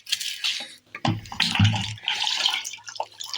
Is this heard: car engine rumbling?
no